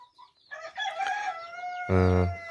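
A farmyard rooster lets out a loud, close crow that stretches across most of the moment, followed by a deep throaty clucking burst at the end.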